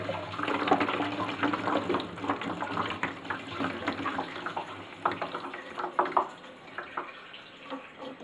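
A Flojet LF-12 water pump runs for grey water, giving a steady close wash of flowing, splashing water with uneven surges throughout.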